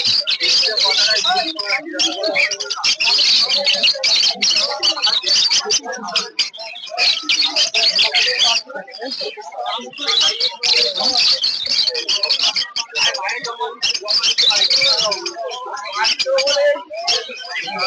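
Caged birds chirp and squawk densely and continuously at Uluberia bird market, a busy close chorus of tweets and calls mixed with market talk throughout.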